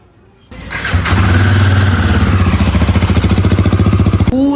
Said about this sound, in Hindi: तो आप देखते हैं कि जो एग्जॉस्ट का साउंड है वो कैसा है